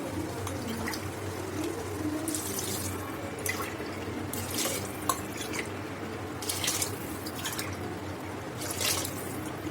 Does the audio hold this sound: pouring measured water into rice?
yes